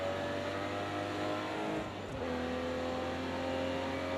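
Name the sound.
Aston Martin DB11 accelerating out of hairpin, Project CARS 2 video game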